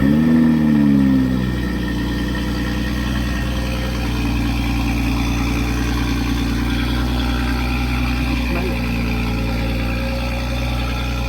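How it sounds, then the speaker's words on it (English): A 2022 Toyota GR Supra with its 3.0-litre B58 engine fires up for the first time on a catless race downpipe with the stock exhaust, a loud startup flare settling into a steady, close, rumbling idle. "So downpipe's installed, stock exhaust, first startup."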